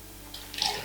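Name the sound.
tamarind water being poured into simmering curry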